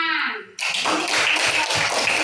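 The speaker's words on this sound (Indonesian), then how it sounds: "Tepuk tangan." Classroom applause from a group of schoolchildren, a dense burst of steady clapping that starts suddenly and carries on after a short voice.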